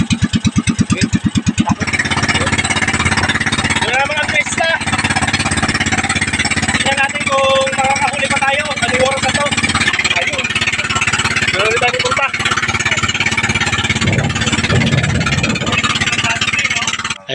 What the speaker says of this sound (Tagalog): Mandar na rin bangka.